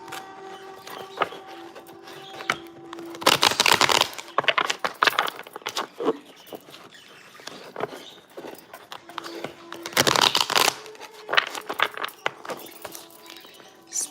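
Playing cards are shuffled by hand in two riffling bursts, each a rapid flurry of crisp slapping and fluttering, separated by scattered soft clicks and handling noises, close to the listener.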